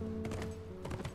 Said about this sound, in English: I don't mind riding horses through the mountainside